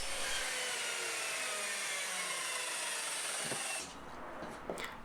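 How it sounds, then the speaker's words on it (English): A power miter saw slices short lengths of wood for a nesting tray, loud and steady for close to four seconds before the blade winds down alone. "I then cut these bits down on the miter saw"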